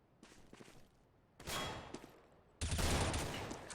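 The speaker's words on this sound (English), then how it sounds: "And Zeusy having a few shots" Gunfire in a competitive shooter video game, a team match with players down to pistols, crackles in quick, rattling bursts, faint at first and then growing louder in two dense volleys.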